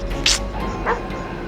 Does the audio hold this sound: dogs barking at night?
yes